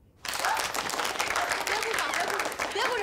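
A crowd claps in a mountain bandit stronghold during a wartime drama. After a brief quiet start, dense, steady applause fills the rest of the clip at a constant level.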